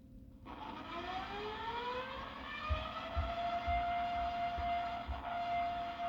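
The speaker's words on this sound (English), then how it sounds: "Such an eerie sound there, the sound of sirens yesterday in Swainsboro, Georgia." Distant sirens wail with rising and falling tones in Swainsboro, Georgia, sustained over a low background rumble.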